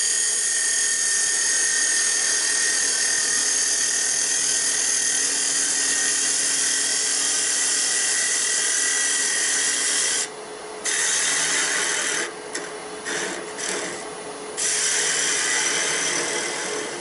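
A gouge cuts wood on a lathe while an oyster box lid is being turned, giving a steady, close, hissing scrape that breaks off briefly several times toward the end.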